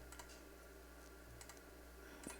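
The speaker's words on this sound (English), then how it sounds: "It types wonderfully." A computer keyboard is typed on during a typing test, with light, sparse keystroke clicks spread over a couple of seconds above a steady electrical hum, close and soft.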